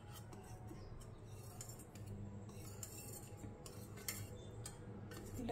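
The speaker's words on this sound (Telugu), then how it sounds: "సో ఇలా బీటర్ తీసుకొని మంచిగా బీట్ చేసుకోవాలన్నమాట థిక్నెస్ కోసం." A beater whisks curd in a bowl for a creamy cucumber salad, giving a steady, fairly faint scraping and clinking churn that runs continuously without pause.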